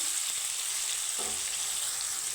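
Onions frying in a pan for a katla fish curry, giving a steady, close hiss of sizzling oil throughout, with a faint clink of a utensil partway through and no voices.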